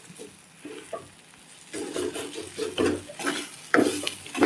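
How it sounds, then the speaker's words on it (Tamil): Green chillies and masala frying in a pan for palak paneer, with a soft sizzle under repeated scraping and stirring strokes of a utensil against the pan, growing busier and louder partway through. "இப்போ நம்ம ஃப்ரை பண்ணிக்கணும்."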